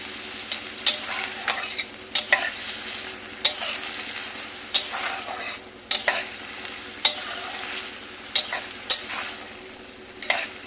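Boiled peas and potatoes stirred and fried with spices in a pan for ghugni cooked with goat fat, a steady sizzle broken by repeated scraping strokes of a spoon at an even rhythm.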